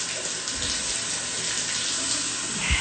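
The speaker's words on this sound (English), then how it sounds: "I'm not trying to waste water, but this is my water pressure" Shower running at high pressure, a loud, steady rushing hiss of water spraying without pause, close by and with no talk.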